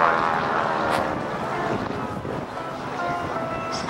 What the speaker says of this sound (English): watch as John pulls up and gets this airplane tumbling